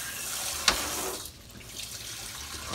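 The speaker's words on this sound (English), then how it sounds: "I'm gonna add a little water to this," A kitchen faucet runs close by, adding water to a pot of gravy for smothered chicken gizzards, a steady rushing stream with a short splash early on and a brief dip midway.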